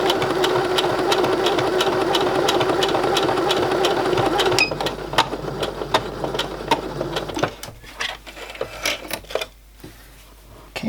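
Sewing machine stitching vintage Barbie doll clothes runs in a steady close whirring burst for several seconds, then slows into short stop-start stitches and faint handling clicks before going quiet.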